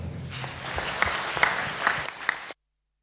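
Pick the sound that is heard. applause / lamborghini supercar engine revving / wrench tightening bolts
applause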